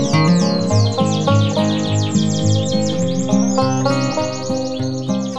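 Canaries in breeding cages sing nearby, bright and loud, with sustained warbling phrases and rapid chirps filling the space and no talk over them.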